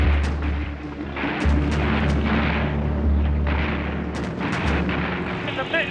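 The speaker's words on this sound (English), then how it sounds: "battered by heavy anti-aircraft fire" Heavy anti-aircraft fire bursting around a wartime bomber during an attack near Antwerp, Belgium: rolling booms and sharp cracks layered over a constant low aircraft drone, loud and sustained throughout.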